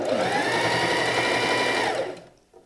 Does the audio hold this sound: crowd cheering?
no